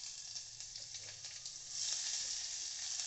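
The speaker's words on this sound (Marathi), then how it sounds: "कांदा छान गुलाबी रंगावर फ्राय करून घ्यायचा आहे" Finely chopped onion fries in a spoonful of oil inside a pressure cooker with tempered cumin and mustard seeds, giving a continuous soft hiss that swells a little louder partway through, no voices.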